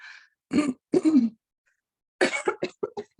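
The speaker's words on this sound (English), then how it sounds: "Early morning coughing like mad" Early-morning fits of coughing and throat clearing, close and fairly quiet: a rasping clear, two heavy coughs, a pause, then a quick cluster of shorter coughs.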